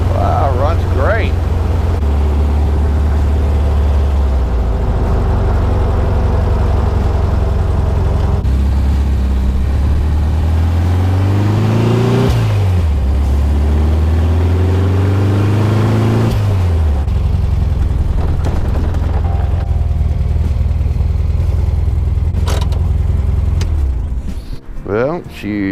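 A 1966 VW dune buggy's air-cooled engine runs loud and close, its pitch climbing and falling through several revs over a steady idle, with voices at times over the drone.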